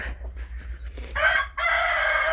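A broody hen and chicks cluck in short bursts, then a louder sustained call rises and holds near the end, close by with no talking.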